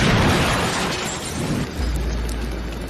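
Loud explosion in an Indonesian action film scene, a heavy blast with crackling debris that rolls into a deep rumbling boom.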